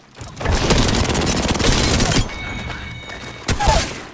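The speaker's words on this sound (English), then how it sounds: "Look out, grenade." A grenade blast and a rapid burst of gunfire erupt in the Apex Legends video game. They form a loud, dense barrage lasting a couple of seconds, then a quieter lull before a second sharp burst near the end.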